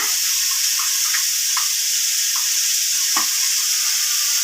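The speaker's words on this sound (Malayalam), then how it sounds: "ഈ സമയം നമ്മൾ അരച്ചു വെച്ചിരിക്കുന്ന നമ്മുടെ അരപ്പ് ചേർത്ത് കൊടുക്കുകയാണ്" Steady sizzling of ridge gourd and shallots frying in a pan with ground coconut paste added, with a few soft scraping knocks from stirring scattered throughout.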